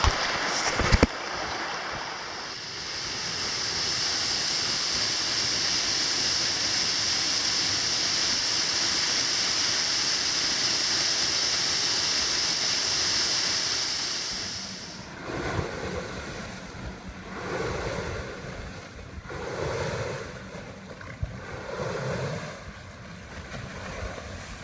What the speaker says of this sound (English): this right here is actually the river that feeds Spray Falls that we just showed on film. That's a lot of water coming down.